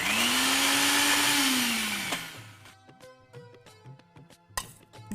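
A mixer blender whirs loudly as it crushes a stuffing with a little water, its motor pitch dipping under load before it stops abruptly, followed by a few quiet clinks and knocks.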